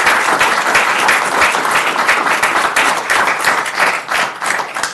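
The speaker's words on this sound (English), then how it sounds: "Let's all give David a round of applause and just congratulate him." Sustained applause fills a Manhattan Beach City Council meeting as attendees honor a man named David. The clapping is thick, steady and close, with no voices standing out.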